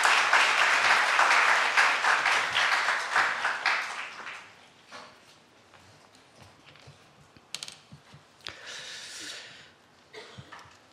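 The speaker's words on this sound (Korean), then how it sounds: "목사님 박수로 환영하고." A church congregation at a Korean-language Sunday service claps to welcome the pastor, with dense applause that fades out after about four seconds into near quiet broken by scattered clicks.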